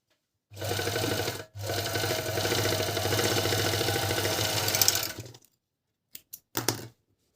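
A Dragonfly GN1-114D four-thread overlock sewing machine runs at speed in one long steady burst, stitching fabric with a brief pause near the start, then a few short stops and starts at the end.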